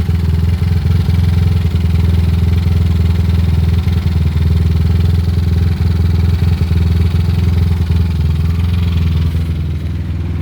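A Yamaha Aerox scooter engine with a stuck throttle idles steadily at a raised, unchanging speed, a constant loud drone with a fast rhythmic putter that never settles down.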